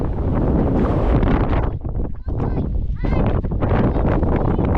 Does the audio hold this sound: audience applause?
no